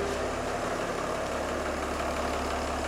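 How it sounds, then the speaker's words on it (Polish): A BMW 750d with the B57 diesel engine idles steadily, a low, even mechanical hum with a constant rhythmic pulse, heard close with no talking. "auto Wam zaraz odpalę, pokażę jak chodzi"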